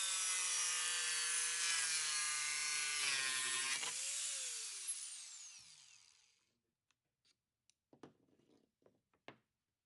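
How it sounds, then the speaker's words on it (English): A Dremel Saw-Max cuts along trim held against a clamped angle guide, a loud steady whining saw for about six seconds that winds down and stops, followed by a few faint clicks and handling knocks. "Rest the SawMax against the guide to begin cutting, moving the tool slowly and smoothly."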